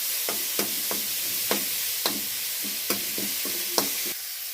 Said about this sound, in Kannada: ಈಗ ಟೊಮೆಟೊ ಉಳ್ಳಾಗಡ್ಡೆ ಎಲ್ಲ ಫ್ರೈ ಆಗಿದೆ.